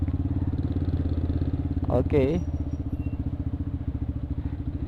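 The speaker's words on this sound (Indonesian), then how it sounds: "Nah, setengah kopling, gas agak sedikit ditarik." A clutch motorcycle creeps through slow, dense traffic on half clutch with a light touch of throttle, its engine chugging loudly and steadily near the microphone while a rider talks over it and a brief clatter cuts in.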